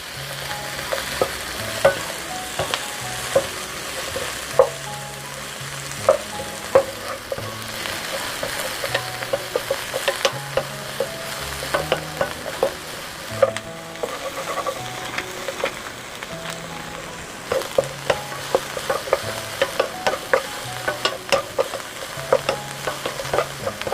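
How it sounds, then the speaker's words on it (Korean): Shishito peppers stir-frying in a pan, with a steady sizzle and the repeated scrape and clack of a utensil stirring in an irregular rhythm, close and alone with no talk. "여기에 꽈리고추가 투명해질 때까지 달달 볶아줍니다."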